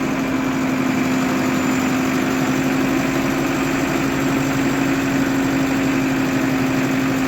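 Vehicle engine with a newly fitted Wipro hydraulic jack kit, running steadily at idle throughout, loud and close, with a constant low hum and vibration and no clear rise in revs.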